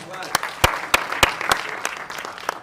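Scattered, sparse clapping from a small audience at an album launch event for a singer's debut album, about eight sharp distinct claps spread unevenly across a few seconds over a low murmuring background.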